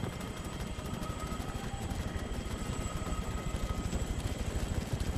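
A continuous, steady helicopter rotor drone from the video game Arma 3, with a throbbing low chop, moderately loud and unbroken throughout.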